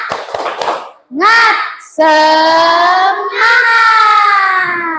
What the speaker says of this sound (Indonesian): mari kita tepuk semangat lagi